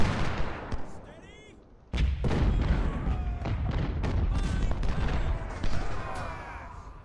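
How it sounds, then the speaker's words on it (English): Cannon artillery fire in the Ultimate General Union campaign, a series of booming shots and crackling volleys with battle din in between, heavy blasts continuing throughout, no talk. "Shoot the cannons,"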